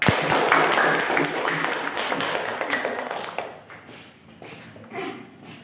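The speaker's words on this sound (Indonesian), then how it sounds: "silakan kita kasih tepuk tangan untuk kedua kelompok" Classroom of students clapping together for two discussion groups, a dense burst of many hands that is loud at first and then thins and fades toward the end.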